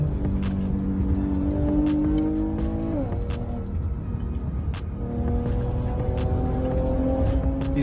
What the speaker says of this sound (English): Sounds like a V6, doesn't it?